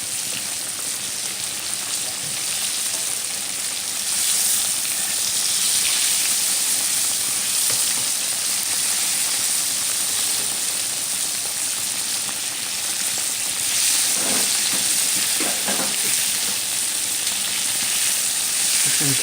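Fry bread dough frying in a pan, a loud, continuous close-up sizzle and crackle like steady rain that holds evenly throughout, with a few brief shifting bubbles and pops partway through.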